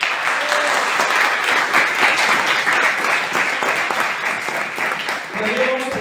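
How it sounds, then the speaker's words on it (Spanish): An audience at a talk on leadership and parenting gives a strong round of applause, dense steady clapping throughout, with a voice briefly heard at the close. "Un fuerte aplauso para él."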